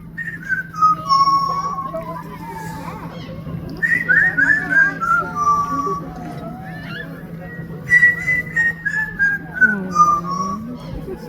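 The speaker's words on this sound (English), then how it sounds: "Now the thing about whistling, he likes to make the tunes up as he goes along." A talking parrot whistles a made-up tune in close, clear phrases of sliding and wavering notes, pausing between runs, over a steady low background hum.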